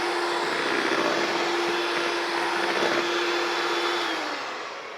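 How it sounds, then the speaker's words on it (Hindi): An electric mixer grinds eggs into cake batter with a loud, steady motor whir that winds down at the end. No one speaks. "दूसरा अंडा इसमें डाला है और इसको मैं ग्राइंड कर रहा हूँ"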